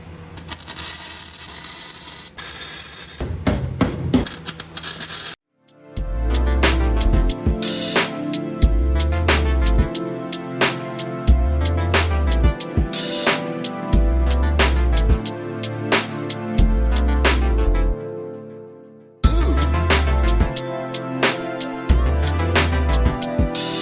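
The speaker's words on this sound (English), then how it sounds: "now both of those are welded up and patched" Welding floorboard rust-repair patches on a junkyard Datsun 240Z, a dense crackling buzz in bursts several seconds long with brief pauses between runs, loud and close, preceded by a short grinding rush.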